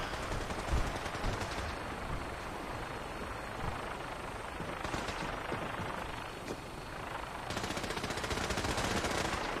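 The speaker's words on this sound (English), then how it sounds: "What are they shooting at?" Sustained automatic gunfire crackles in Fallout 4 near a Vertibird gunship, dense rapid bursts over a constant engine roar, with louder volleys swelling toward the end.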